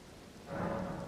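Rain in the video game Elden Ring Shadow of the Erdtree, a soft steady patter that swells louder halfway through and keeps falling with no voices over it.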